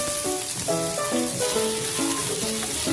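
Ginger, garlic and onion sauté in a hot pan for squid adobo with coconut milk, giving a steady sizzling hiss under background music.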